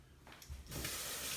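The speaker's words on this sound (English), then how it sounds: "coconut spray on my" A steady, breathy hiss of coconut cooking spray onto a pan starts up and continues, quiet and close, with a faint clunk just before it.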